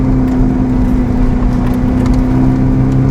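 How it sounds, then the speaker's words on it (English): Novitec-tuned 1109 hp Ferrari SF90 Spider with its turbos spooling, a loud, steady whir over a constant engine drone and rumble from inside the car. "the lovely thing about these engines is that you really hear the turbos spooling"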